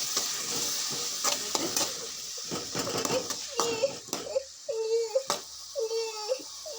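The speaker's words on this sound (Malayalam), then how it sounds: "എന്നിട്ട് നന്നായിട്ടൊന്ന് ഇളക്കി കൊടുക്കാം" Onion and tomato stirred together in a pan, giving a soft scraping and light sizzle in a home kitchen. A baby's cries and whimpers rise over it in the second half.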